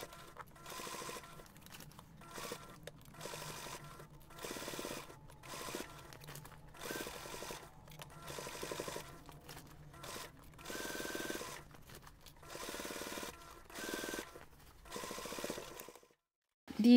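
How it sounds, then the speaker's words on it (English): Sewing machine top stitching a finished seam on a fabric plant pot cover, running in repeated short bursts of rapid rhythmic needle clatter separated by brief pauses, close and fairly quiet. "we're going to take this to the machine and we're going to top stitch along that finished"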